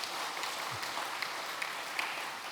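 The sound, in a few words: church congregation applauding in welcome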